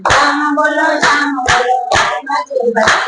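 Both hands clap together in a steady beat roughly twice a second during a devotional Krishna bhajan, sharp and close, ringing out over voices singing a melody throughout.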